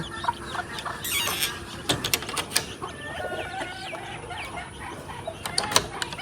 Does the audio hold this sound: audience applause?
no